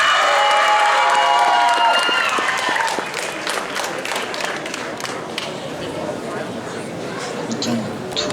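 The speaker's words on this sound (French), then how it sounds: "Je vous demande de l'applaudir." An audience at a cosplay contest applauds a cosplayer, with loud cheering and shouts at first, then dense steady clapping that continues with crowd chatter underneath.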